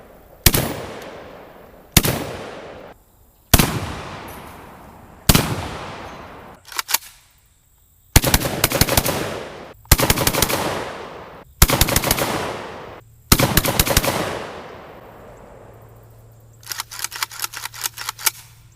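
JTS M12AK 12-gauge AK-style shotgun firing outdoors, about ten sharp, loud blasts spaced roughly one to two seconds apart with ringing echo decays, ending in a quicker burst of several shots.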